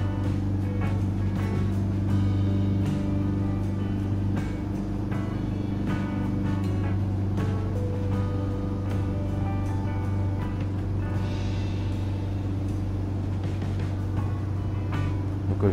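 Diesel car engine idling steadily during an engine decarbonizing treatment, a constant low droning hum with faint clicks and rattles, close and moderately loud, no speech.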